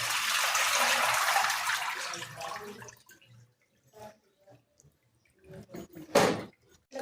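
Water rushing over freshly picked tomatoes as they are washed, a close hissing splash for about three seconds, followed by sparse drips, knocks and handling noises once the flow stops.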